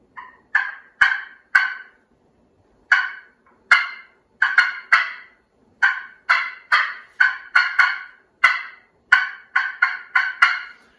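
A hand-held turkey call imitates a wild turkey hen's cackling, giving loud, rapid runs of sharp clucks in irregular bursts with short pauses, close up and with no talk over it.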